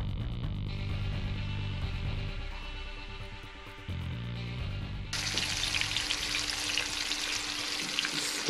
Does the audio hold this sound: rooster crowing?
no